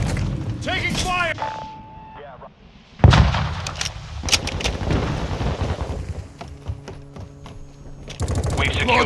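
Gunfire crackles through a Call of Duty Modern Warfare 2 multiplayer match, with rapid automatic bursts, a loud boom near the middle and scattered shots among game noise and radio chatter.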